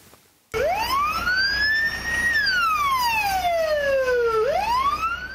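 An ambulance siren wails as the ambulance arrives at the scene of a tram crash: a loud, close, continuous tone that sweeps up, holds, glides slowly down, then climbs again, with no voices.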